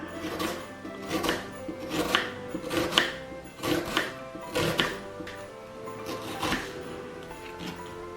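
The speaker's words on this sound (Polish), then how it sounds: "Obraną cebulę kroję w piórka." A knife cuts a peeled onion into thin strips on a board, a steady series of crisp chops roughly every second, close and moderately loud, alone without talk.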